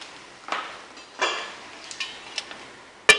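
A lid set on a pot of Mexican beans: a few light metallic clinks and scrapes, then one sharp closing clank at the end, near and alone.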